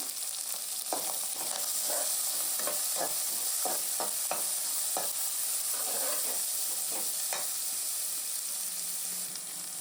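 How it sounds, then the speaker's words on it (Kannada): Onions frying in a pan for a village-style mutton blood fry, a steady broadband sizzle throughout with intermittent scraping and stirring clicks, close and continuous, no voices. "ಈರುಳ್ಳಿ ಹಾಕ್ತಿದ್ದೀನಿ ನೋಡಿ"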